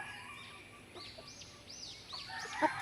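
Native chickens give faint, rising cheeping calls and clucks in a quiet outdoor setting, one slightly louder note near the end, with no one speaking.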